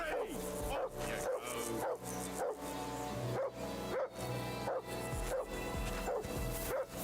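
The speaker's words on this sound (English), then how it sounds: "let's quiet that dog down" Dog barking in the video game Kingdom Come Deliverance II, repeated bow-wow barks at a steady rhythm every second or so, loud and close over a dense, continuous game soundtrack.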